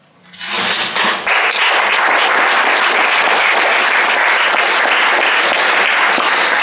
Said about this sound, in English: maybe you should save your applause until the end